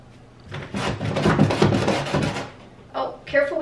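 A door is opened and handled indoors, giving a few knocks, rubs and wooden clatters, with voices talking over and between the sounds.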